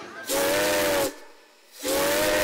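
Two loud hissing blasts of a steam whistle, each lasting nearly a second and separated by a short gap.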